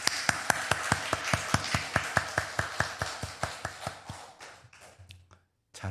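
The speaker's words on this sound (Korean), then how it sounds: "우리 하나님께 영광의 박수 올려드릴까요?" A church congregation claps in an even, steady rhythm at a Sunday afternoon service, about twenty sharp claps that gradually soften and stop before a short silence.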